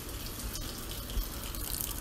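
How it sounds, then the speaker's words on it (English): Water runs steadily out of the hose of an electric inline water heater, a constant close splashing flow with no voices. "there's still water in the line"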